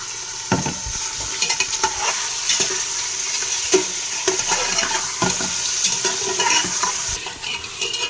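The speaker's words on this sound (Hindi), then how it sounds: "डालने के बाद में हम इसको अच्छी तरीके से चलाएंगे" Chicken being stirred with salt in a pot for a spinach curry, a steady sizzle and frying hiss with repeated scraping clinks of the spoon against the metal, close and continuous.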